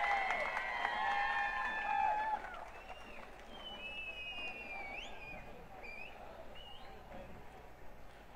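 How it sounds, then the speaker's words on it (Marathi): Crowd applause at a Sharad Pawar campaign rally for Supriya Sule, with whistles and cheering over dense clapping for about two seconds, then easing into a steadier, quieter crowd murmur. "एकदा जोरदार त्यांच्यासाठी टाळ्या वाजून त्यांचा सत्कार करा"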